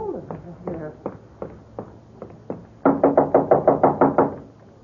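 Knocking on a door in an old-time radio mystery drama: scattered single raps give way to a loud, rapid series of about ten close, insistent knocks, with speech around it.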